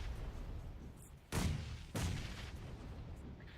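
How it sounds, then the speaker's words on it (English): A grenade blast in a competitive video game match, with two sharp, booming bursts about half a second apart standing out from a steady low background rumble. "Now Stevo's going to retaliate with a nade of his own."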